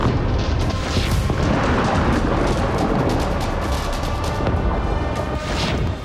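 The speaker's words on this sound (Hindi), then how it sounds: "विस्फोट पर विस्फोट होते गए" Airstrike bombing explosions rumble in heavy, sustained booms with crashing debris noise, a loud continuous roar across the whole stretch and no speech.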